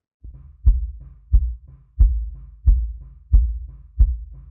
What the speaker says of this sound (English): And then our sub kick sounds like this.